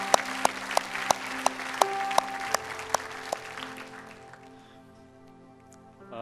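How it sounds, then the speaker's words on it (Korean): A church congregation claps at a Sunday worship service, a sharp, steady beat of claps over sustained keyboard chords that thins out and fades after about three seconds, leaving the music alone. "하나님께 감사의 박수 올리겠습니다."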